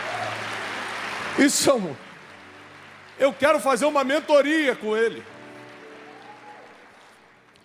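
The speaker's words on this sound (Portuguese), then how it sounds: "Gente, vamos aplaudir o guerreiro?" An audience applauds briefly as a lone voice speaks over the crowd, the clapping a soft continuous wash beneath and between his words.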